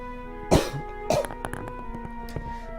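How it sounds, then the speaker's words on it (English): Two sharp coughs ring out close to the microphone, about half a second apart, followed by a few faint clicks and a soft throat sound over a steady low background hum. "And I got a cough."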